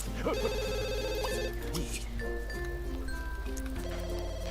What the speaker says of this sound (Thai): โอ้โทรศัพท์